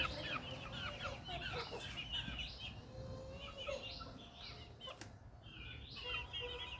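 Several native country chickens cluck and squawk close by in short bursts, with a few wing flaps and soft chirps in the background.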